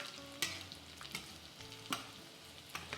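A cordon bleu fries in plenty of unsalted butter, with a soft, bubbling sizzle and a few sharp clacks from a utensil or pan, quiet and close, with no voices.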